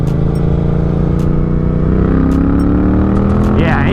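Suzuki GSX-8R motorcycle pulling in 4th gear from around 3,000 RPM, a loud close engine drone whose pitch climbs steadily as it accelerates, with wind rush throughout.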